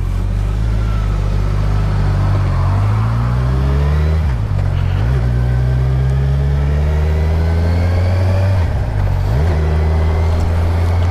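A Kawasaki Ninja 1000 (Z1000SX) ridden during engine run-in, its engine whine climbing steadily through the revs with two sharp drops at gear changes, loud and close with wind rush from the helmet.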